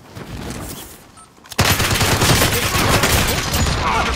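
Sustained burst of Tommy submachine gun fire in a video game, loud and continuous from about halfway in, after a quieter stretch of distant shooting.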